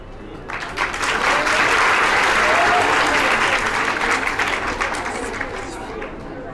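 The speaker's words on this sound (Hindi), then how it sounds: "एक जोरदार ताली बजा दीजिए।" Sustained loud audience applause at a student victory ceremony honouring exam toppers, a dense steady wash of clapping with crowd noise that starts after a brief moment and continues throughout.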